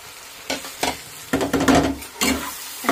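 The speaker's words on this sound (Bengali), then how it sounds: "এখন আমি যে মুগ ডাল ভেজে রেখেছিলাম সে ডালটা এর মধ্যে দিয়ে দেবো।" Fried moong dal tipped into a pan of Kashmiri chili powder and spices and stirred, giving bursts of scraping and sizzling in uneven strokes, close and fairly loud.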